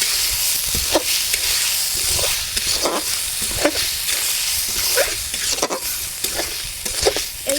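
Rice grains with salt stirred in a hot pan, a steady sizzle broken by repeated scraping strokes of a spoon against the metal, close and fairly loud with no talk.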